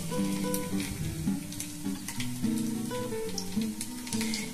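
Coated eggs fry in hot oil on a medium flame for an egg curry, giving a steady sizzle with crackling pops and spits. Ringing tones from the pan or utensils sound underneath.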